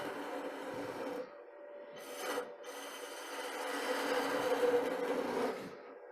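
Wood being turned on a lathe while a Christmas tree or snowman shape is cut, a steady close rasping scrape that pauses briefly, then swells louder and continues before easing off near the end.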